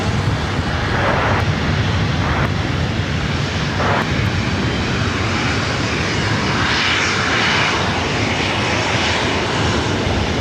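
A Delta jet airliner taking off from runway 24 right at LAX airport gives a loud, steady engine roar that fills the whole stretch without letup, with no talking.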